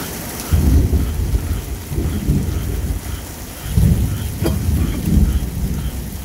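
A Florida thunderstorm pours steady rain while deep rolls of thunder swell and fade in heavy low rumbles, with a sharp crackle standing out midway through the downpour.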